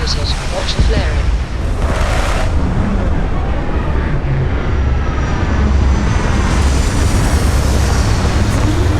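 A spaceship touches down in the Starfield game, a loud, steady engine roar that holds for the whole stretch, with faint voice chatter underneath.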